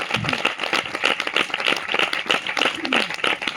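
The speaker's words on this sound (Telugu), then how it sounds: "దగ్గరగా చప్పట్లు కొడదాం" An audience claps their hands in a gathering, a dense run of close, sharp claps that keeps going steadily, with a faint voice underneath.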